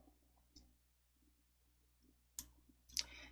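A few soft, close computer mouse clicks in a quiet room, isolated taps at irregular intervals with a couple of sharper double clicks toward the end.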